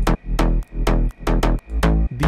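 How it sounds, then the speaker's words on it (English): A layered slap house bass built in FL Studio, several stacked layers over a sub, plays a bouncy rhythmic line of short punchy notes with deep low end, loud and alone. "This is how the bass sounds like."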